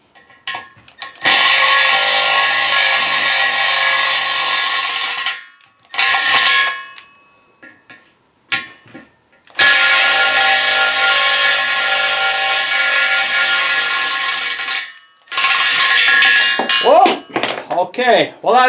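Power tool cutting threads with cutting oil, loud sustained whirring bursts separated by short silences, followed by a voice talking at the end.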